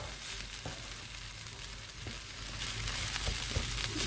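Fried rice with herbs sizzles steadily in a pan, a dense broadband hiss that holds for a few seconds and swells slightly louder toward the end, with faint scrapes of stirring.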